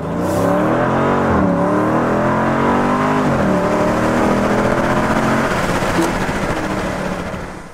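A Dodge Challenger accelerates hard through its 8-speed gearbox, with the loud engine note climbing and dropping at quick shifts through short early gears before fading slightly as it pulls away.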